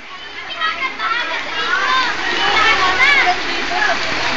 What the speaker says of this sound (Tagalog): Ang lakas na agos, oh.